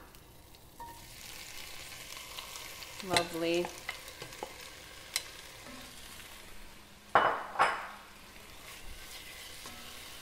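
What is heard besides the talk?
vegetables sizzling in hot oil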